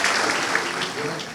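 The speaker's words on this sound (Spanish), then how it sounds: "Les pido un aplauso para Maritza" A lecture audience at a history congress gives a brief round of applause for the speaker, a short wash of clapping with a voice briefly over it.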